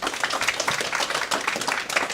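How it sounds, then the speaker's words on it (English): A room full of people claps for a panel at a launch event on justice responses to sexual violence, a dense, steady round of applause with no one speaking over it. "they deserve a round of applause"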